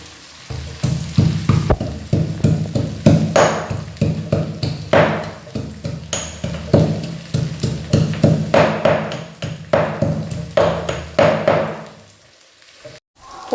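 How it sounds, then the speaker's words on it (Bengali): Ginger is crushed for a Bihari-style mutton curry, with loud, close, steady pounding thuds repeating for about twelve seconds before stopping abruptly. "এবার আমি আদাগুলোকে এর মধ্যে দিয়ে থেতো করে নেবো"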